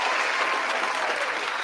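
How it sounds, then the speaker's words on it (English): A room full of people bursts into a loud, steady round of applause and cheering for a monthly winner on a sports talk show, the clapping dense and continuous throughout. "Round of applause to my man, Noah Hales."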